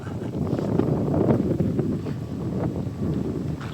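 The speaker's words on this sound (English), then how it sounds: "with this wind blowing now like this, I would imagine a lot of leaves will come off" Wind blowing through a public garden on a fall morning, a steady low rushing buffet across the microphone with faint rustling and no talk.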